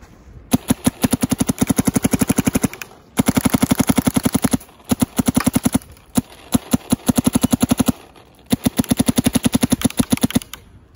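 Rapid bursts of shots from a Luxe X paintball marker fitted with a soft-tip bolt, four fast strings of sharp pops, each lasting a couple of seconds with short pauses between, loud and close.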